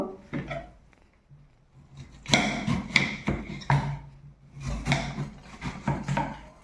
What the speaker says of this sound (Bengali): তো এইভাবে ছুরি দিয়ে টুকরো করে নিতে হবে।